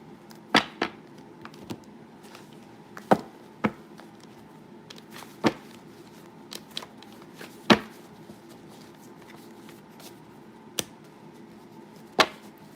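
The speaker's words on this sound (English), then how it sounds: "I feel like I'm going to put these cards back." Tarot cards are handled and tapped back into the deck, giving sharp, isolated clacks and soft slides spaced a second or two apart against a quiet room hum, with no one talking.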